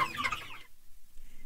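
Free-range chickens give a brief burst of close clucking that quickly fades to quiet, no one speaking.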